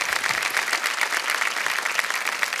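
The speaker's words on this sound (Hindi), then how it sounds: "तालियां बज जाए इनके लिए." Studio audience on a television quiz show claps for a contestant's winnings, a dense, even burst of many hands applauding without talk.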